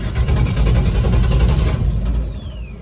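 A twin-turbo LS-swapped pickup truck's V8 runs loud and close after starting, a rough, throbbing idle with a slight rev before it settles and fades a little toward the end.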